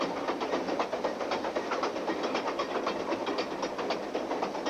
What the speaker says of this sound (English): I don't know what it is, the sound, feel, the smell even of the diesel locomotive.